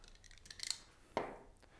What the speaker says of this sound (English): We'll cut the adhesive.